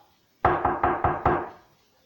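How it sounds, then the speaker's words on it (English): Five loud, evenly spaced knocks on a door in quick succession, close by, with silence before and after. "there was a loud knock at the front door"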